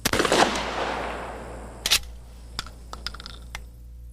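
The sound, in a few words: shotgun slugs being fired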